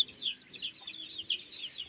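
Chickens at home, some with an eye infection, clucking and chirping softly in a steady stream of short calls, close up, with no talking.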